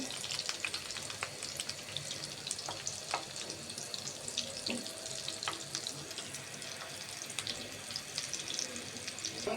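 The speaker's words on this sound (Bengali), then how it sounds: "আগে যে পেঁয়াজ ভাজাতে তেলটা ছিলাম ওই তেলে ভাজবো" Soya chunk and lentil kebabs frying in oil previously used to fry onions, a steady dense sizzle and crackle throughout with scattered pops and clicks of utensils, fairly close and even in level.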